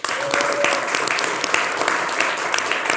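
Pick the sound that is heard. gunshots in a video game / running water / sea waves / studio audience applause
studio audience applause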